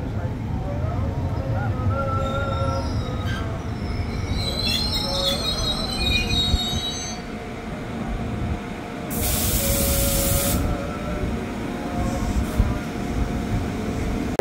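A KRL Commuter Line train rolls through Manggarai station at rush hour with a steady rumble, high wheel squeals and a loud burst of air hiss partway through, while a station voice is heard over the din.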